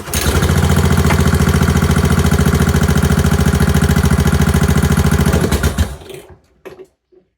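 A small engine on a JCB Beaver runs loudly with a rapid, steady chugging rhythm for several seconds, then sputters and cuts out into near silence.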